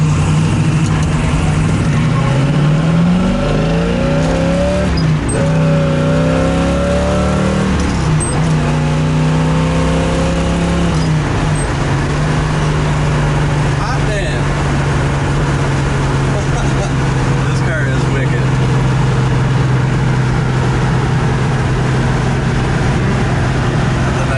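A 1969 Chevrolet Camaro Z28 V8 drones steadily while driving, rising through a few revving pulls early on before settling into a constant cruising hum, loud and continuous throughout.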